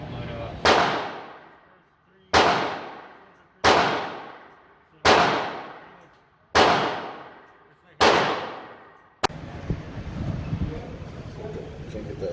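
Six loud, sharp reports from a Glock 21 pistol at a shooting range, fired at steady intervals of about one and a half seconds, each ringing off with a short tail before a burst of rustling handling noise.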